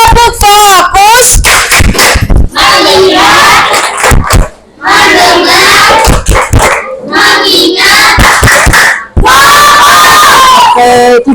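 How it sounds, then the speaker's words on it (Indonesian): Schoolchildren in a classroom perform a rhythmic focus-clap chant, a loud group of young voices shouting in unison with bursts of claps in a driving pattern, with a brief pause midway before the chant resumes. "Sebelum kita lanjut, coba kita tepuk fokus."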